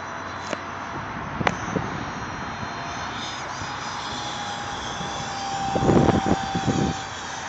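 An FF-22 RC electric ducted fan jet with a Detrum 64mm 4S fan flies a speed test, its loud, steady high whine rising as it passes close near the end, outdoors with no speech.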